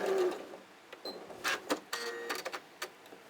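A domestic sewing machine chain piecing fabric in short bursts of rapid stitching broken by brief pauses, close and moderately loud with light mechanical clicks between runs.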